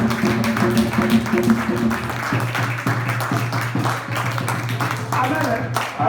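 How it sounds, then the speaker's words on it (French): A church congregation applauds for Jesus, steady rhythmic clapping from many hands over a low sustained hum, with voices mixed in throughout. "Applaudissons pour Jésus"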